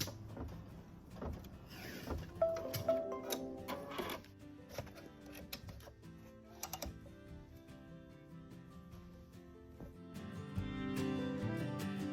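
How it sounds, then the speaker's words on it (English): An embroidery machine stitches a pocket placement line on folded fabric, giving quick mechanical clattering bursts and whirring runs of varying length, fairly quiet and close, with pauses between runs. "it's going to stitch out where to place our pocket fabric"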